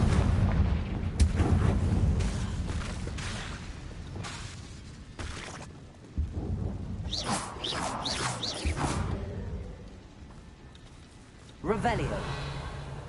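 Repeated Confringo blasting spells burst in a Harry Potter video game, loud booms and crackling whooshes recurring through the stretch while a voice talks over much of it.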